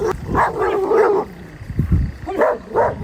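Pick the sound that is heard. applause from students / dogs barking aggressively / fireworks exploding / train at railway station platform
dogs barking aggressively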